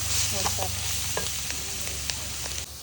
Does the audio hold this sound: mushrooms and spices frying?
yes